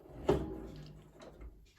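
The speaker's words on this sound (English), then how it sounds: "Now let's get this chicken in. Let's get the door open." A door on a rotisserie air fryer oven swings open with a single sharp clunk, followed by a faint rattle and low background hum in a kitchen.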